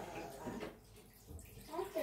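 Tap water runs and splashes while dishes are washed by hand at a kitchen sink, a rushing wash that swells and fades, with voices talking over it.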